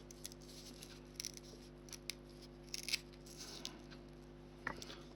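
A few quiet, scattered scissor snips and crisp rustles cutting a small piece of Velcro, close and sparse, over a steady low hum, with one sharper snip near the end.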